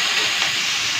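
Spices frying in a little oil for a light fish curry, a steady close hiss filling the whole second with no break and no talk.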